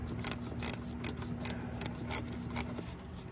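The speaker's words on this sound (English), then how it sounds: "you'll grab your 13mm ratcheting wrench and attach it to the other bolt, and then just start counterclockwise turning the bolt" A 13mm ratcheting wrench turns a starter motor bolt counterclockwise on a 2007-2013 MINI Cooper R56, making a steady series of close, crisp ratchet clicks at an even pace, with a faint mechanical hum underneath and no talking.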